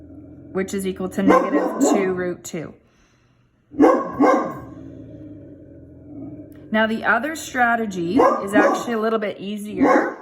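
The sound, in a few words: dog barking in the background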